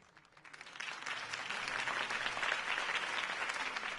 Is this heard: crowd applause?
yes